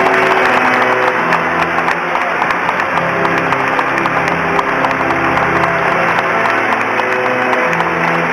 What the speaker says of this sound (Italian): Esprimiamo la nostra gioia con un applauso.